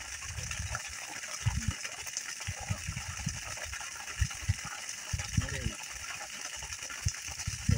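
A submersible pump gushes water from a freshly drilled bore, a continuous hiss of rushing water with voices talking faintly in bursts over it.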